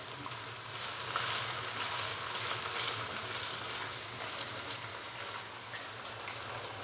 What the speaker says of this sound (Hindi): यहाँ पे हम चिकन को भून लेंगे 4 से 5 मिनट के लिए अदरक और लहसुन के पेस्ट के साथ